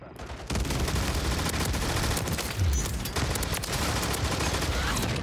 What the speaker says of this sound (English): The Zaku machine gun.